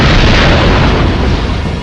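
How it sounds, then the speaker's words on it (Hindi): A car blows up in a loud, sustained explosive roar in an animated Hindi horror story set on a highway. The dense, rumbling blast fills the short moment with no talk over it. "तभी उस गाड़ी में एक धमाका हुआ"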